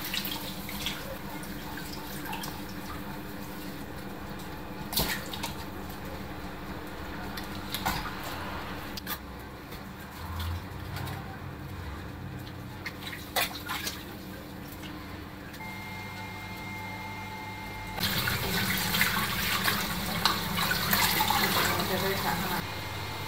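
Fish being washed in water with tapioca flour and salt in a home kitchen, giving a steady run of water and splashing with brief sharper clatters, growing louder near the end, with people talking.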